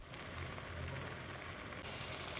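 Tomato and red chilli chutney simmers in oil in a pan, a steady soft sizzle and bubbling hiss that runs without break, faint and even, with no voices.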